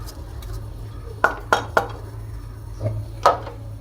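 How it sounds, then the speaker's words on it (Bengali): Vermicelli being stirred with sugar in a pan for jorda shemai, with several sharp utensil scrapes and clinks against the metal over a steady low hum. "চিনিটা দিয়ে আমি আবারও নাড়াচাড়া দিয়ে নিব"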